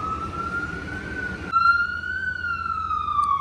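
An ambulance siren wails on a busy New York street, its steady rising-and-falling tone loud and close, with a sharp change to a brighter, harmonic-rich pitch partway through over street rumble.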